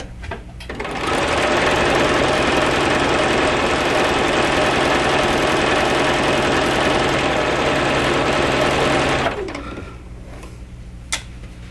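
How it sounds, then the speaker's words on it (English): A sewing machine whirs at a fast, steady speed with the foot pedal fully pressed for several seconds, loud and close, then stops abruptly, leaving a quiet room and a small click. "I even have regulated my sewing machine."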